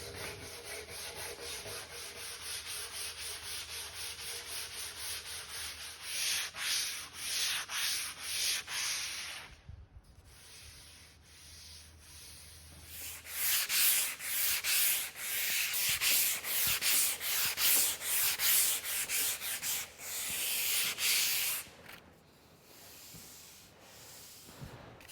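Wood is sanded by hand with 80 grit sandpaper in long rhythmic rasping strokes, close and loud, with a short pause partway before the scraping resumes.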